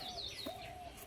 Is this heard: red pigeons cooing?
yes